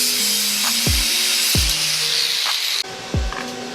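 A power tool cuts through a metal engine mount on a go kart, a loud continuous high grinding whine with repeated dull thumps as the blade bites, close up and alone.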